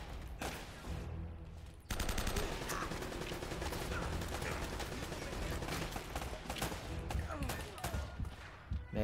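Gunfire in the action game Uncharted: Drake's Fortune, with a sudden jump into sustained automatic bursts and scattered single shots that keep crackling for several seconds and sit fairly loud in the mix.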